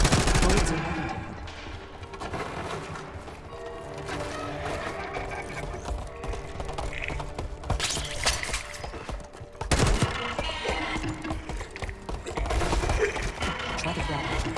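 Gunfire in the Call of Duty Black Ops 6 campaign, bursts of shots mixed with mechanical clatter and music through most of the stretch, swelling sharply near the ten-second mark, with voices in the scene.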